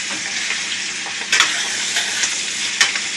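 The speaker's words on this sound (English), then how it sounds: "And I'm going to stir it up. Stir it all up together." A chicken and dumplings mixture with celery being stirred in a pot, giving a steady hissing sizzle throughout, with a few louder scraping sweeps of the spoon standing out near and clear, no voices.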